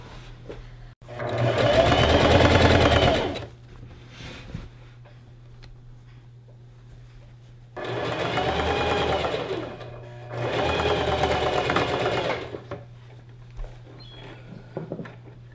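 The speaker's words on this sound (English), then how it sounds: "sew that just like we did for the back panel" A sewing machine stitches a skirt fabric panel in three loud, fast, whirring bursts of a few seconds each, separated by quiet pauses with faint handling noises.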